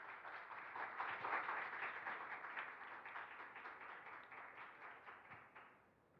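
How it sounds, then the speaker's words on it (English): An audience at the 2021 Busan Global Partnership Forum applauds the speakers late in the evening: sustained, dense clapping that holds steady, then thins and fades at the end. "Give an applause to yourself now and to all our speakers today."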